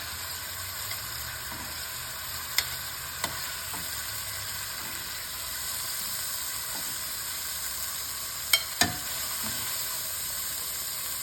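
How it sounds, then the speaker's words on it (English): Salisbury steak meat cooks in a hot pan with a steady, even sizzle and hiss, broken by a couple of faint clicks and taps from utensils. "You can see the food cooking."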